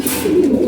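Pigeons in a loft give a low, steady cooing through the whole moment, close and moderately loud with no speech over it.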